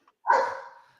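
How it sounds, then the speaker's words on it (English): A single short bark from an eager Australian Shepherd, fairly close and clear, alone with no other sound around it. "a very eager Australian Shepherd."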